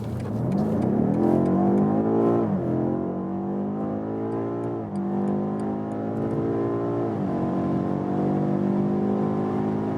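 A BMW M8 Competition Gran Coupé accelerating hard from 50 km/h in its aggressive automatic shift mode, a loud engine note rising in pitch with two quick gear changes dropping it back before it climbs again.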